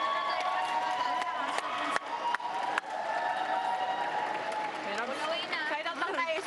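Spectators at a PVL All-Filipino Conference volleyball match applaud and cheer in a steady roar of clapping and voices, with sharp isolated claps and squeaks, while players call out over the noise.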